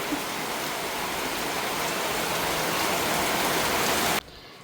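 Steady, dense rainfall on a rainy day, a loud continuous hiss of drops that covers nearly the whole stretch alone, then cuts off abruptly near the end.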